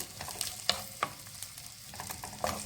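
Onions and garlic sizzle softly in olive oil in a pan and are stirred now and then, giving faint crackles with a few louder scraping taps. No one speaks.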